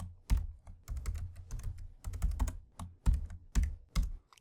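Rapid typing of code on a computer keyboard, a run of close, crisp key clicks in uneven bursts with short pauses, heard alone.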